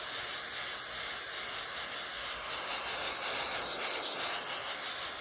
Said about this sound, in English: anything you spray, whether you use this or fixative, it's going to spray